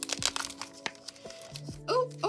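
Crinkly plastic packaging for a clay shaker charm is torn open by hand, giving close, quiet crackling and crunching in short bursts, with brief sounds of someone speaking near the end.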